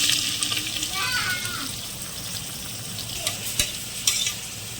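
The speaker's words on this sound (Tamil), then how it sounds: "இப்போ வந்து நம்ம வெங்காயம் கட் பண்ணி வச்சுருக்கோமோ அதையும் சேர்த்து வதக்கலாம்." Sliced onions sautéing in hot oil with whole spices such as bay leaf and cardamom for basmati biryani, a steady sizzle with scraping stirs and a few sharp clinks of the spoon against the pot.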